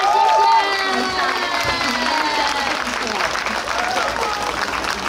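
Audience applause and cheering for six musicians from Yilan at an outdoor temple procession festival in Daxi, Taoyuan, steady clapping from a crowd with a voice over it and a brief musical tone at the start.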